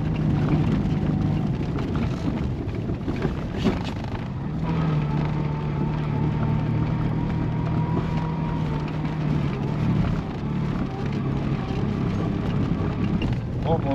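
A Fiat 126p Maluch crawls up a stony road, its small engine droning steadily with a rising tone in the middle, mixed with wind buffeting and rattling from the rough surface, and someone talking over it.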